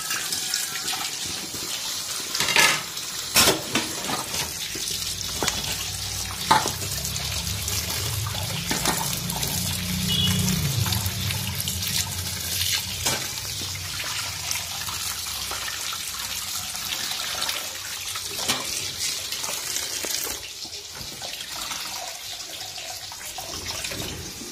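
Chopped banana flower being washed under steadily running tap water in a village kitchen, with splashing and occasional clatters of hands and a vessel.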